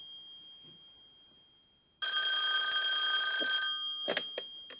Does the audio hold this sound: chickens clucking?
no